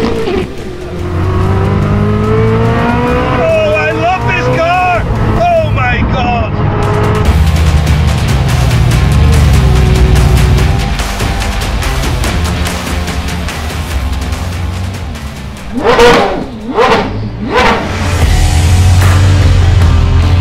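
A 1600 bhp Koenigsegg Jesko loudly climbs through its revs with rising engine tones and gear changes, then sharp bursts of throttle and tire noise, with voices talking over it.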